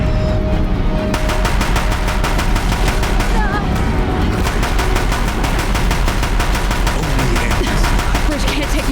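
Sustained rapid automatic gunfire at a bridge during a Horizon Zero Dawn battle, loud and continuous throughout, with a voice briefly heard over the shooting.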